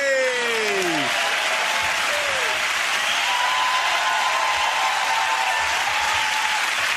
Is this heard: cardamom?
no